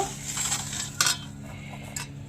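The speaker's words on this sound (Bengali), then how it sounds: "চিনিটা একটু নাড়িয়ে নেব" A spoon stirs sugar into raw milk in a metal bowl, giving soft swishing and a couple of bright clinks against the rim, close and alone.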